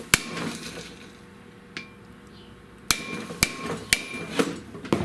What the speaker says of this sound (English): I'm going to sit this on here and I'm going to hammer this in.